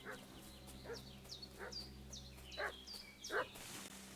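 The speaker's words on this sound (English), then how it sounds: "What's that dog?" A dog barking in the medieval video game Kingdom Come: Deliverance II, about five short, fairly distant barks spaced roughly half a second to a second apart over a low ambient hum.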